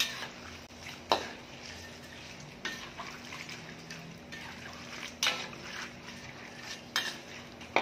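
Crisp food crackles and rattles in a pan as it is stirred, with scraping clatters every second or two over a low background hum.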